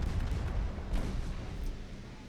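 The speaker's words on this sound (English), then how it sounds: "what kind of torpedo launch was that" Torpedo launch in the naval warship game Ultimate Admiral Dreadnoughts, a dull, heavy rumbling boom with a deep low-end wash and a couple of soft thuds, steady and loud throughout with no talking.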